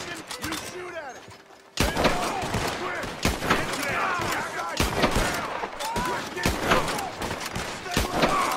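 Gunfire rattles in Red Dead Online as rapid shots and bursts crack throughout a wagon fight. The shots are loud and dense, with excited voices talking over them.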